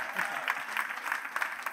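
Steady clapping from a church congregation in Montréal, dense and continuous throughout, moderately loud with a slightly distant, roomy feel.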